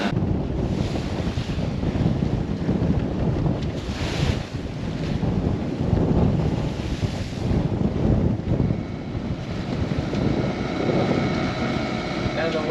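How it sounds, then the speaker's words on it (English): Strong wind of about 20 knots buffets the microphone aboard a sailboat while waves wash and slap against the hull, a loud, continuous rushing and rumbling, with a person talking over it. "the winds are still up, we're still seeing 20 knots solid, no more gusts"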